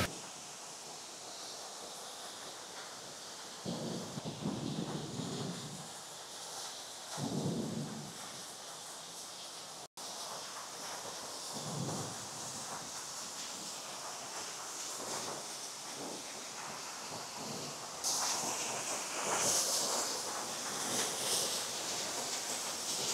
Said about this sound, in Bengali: অনেকটা ওপর থেকে জলটা নিচে পড়ছে